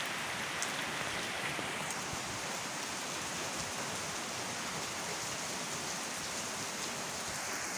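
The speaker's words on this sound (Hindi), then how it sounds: "ये जी जनाब बारिश के मनाज़र।" Steady rain pours down in Murree's hills in a continuous dense hiss, close and even throughout, with no voices.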